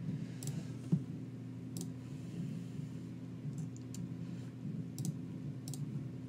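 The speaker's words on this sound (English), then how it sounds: "I'm clicking over on activities here" A computer mouse gives a handful of sharp, quiet clicks spaced a second or so apart, over a low, steady hum in a quiet room.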